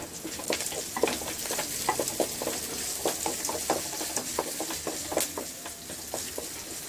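Fresh curry leaves hitting hot oil, crackling and spattering in a dense, steady sizzle with rapid popping bursts close by, fairly loud and with no voices.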